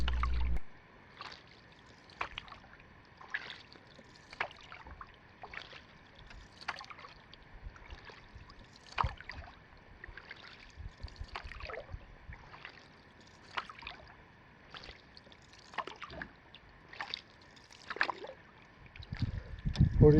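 Paddle strokes from a solo canoe on a calm lake in the Boundary Waters come as soft, regular splashes and drips about every second. The scene is quiet and close, with gentle water gurgles between strokes.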